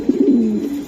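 Racing pigeons cooing close by, a single low rolling coo with a couple of quick pulses that ease into a drawn-out murmur.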